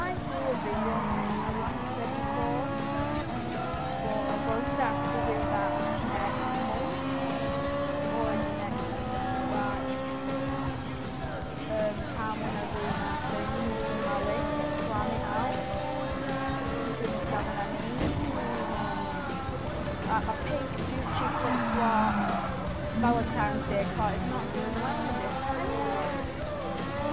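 A race car in the Gran Turismo Sport video game drives continuously with rising and falling engine revs and repeated tire squeals and skids, loud throughout the clip.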